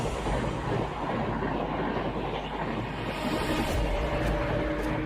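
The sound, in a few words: Secunderabad–Hazrat Nizamuddin Duronto Express train passing, WAP-7 locomotive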